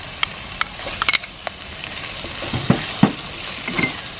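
Onion, crushed ginger, garlic and green chilli sauté in a pan for a beef roast. Crisp sizzling runs under sharp scrapes and knocks of a stirring spoon, and nobody talks.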